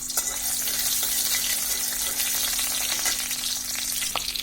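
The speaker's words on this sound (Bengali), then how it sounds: "এখন আমরা যে পেঁয়াজ কুচিগুলো আছে সেটার মধ্যে দিয়ে দিচ্ছি" Chopped onions crackle steadily in hot oil in a pan, with the frying preparing a dried-fish (shutki) dish. The loud, continuous hiss runs on without a break and stays close, and no voice is heard over it.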